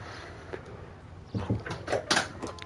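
A door opens or closes in the video game L.A. Noire, heard as a series of close wooden knocks and clunks that grow louder in the second half over a quiet background hum.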